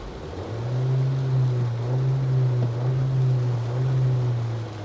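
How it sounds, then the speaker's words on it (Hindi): A 2022 Mahindra Scorpio-N Z8L petrol automatic with the mStallion engine, held at a standstill, gives a steady low drone with a mild swell in revs. The sound is smooth and continuous for about five seconds, with no talking. "I am going to rev the motor now."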